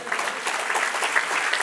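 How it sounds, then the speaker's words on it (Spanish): A church congregation breaks into applause, a dense, even wash of many hands clapping at moderate volume with no voices over it. "Denle un aplauso."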